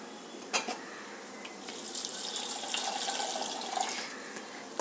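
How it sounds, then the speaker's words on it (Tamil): Water poured from a tap into a cooking pot holding one large tomato while preparing rasam, a soft continuous splashing and trickling that builds and holds steady at close range before ending with a small clunk. "இதை தண்ணி விட்டு நம்ம அடுப்பில் வச்சிடலாம்."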